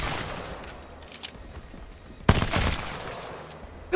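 Gunfire in the Apex Legends video game: a sharp burst of shots around the midpoint over a quieter background of game ambience, with another loud hit at the very end.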